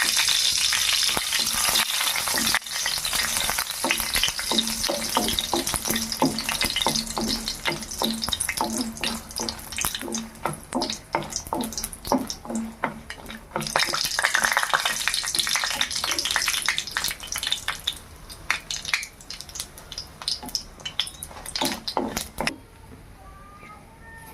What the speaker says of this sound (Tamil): அதுக்கப்புறம் லாஸ்ட்டில் அந்த இலையை போட்டு வதக்கி எடுத்துக்கணும்